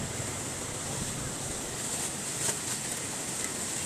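Floodwater pours in after heavy rain in Gonzaga, a steady broad rushing wash close by, continuous and fairly loud with faint wind-like noise.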